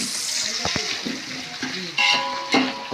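Onions frying in a hot pan for a curry gravy, a steady sizzle with a few sharp clinks of a spoon against the pan, heard close up.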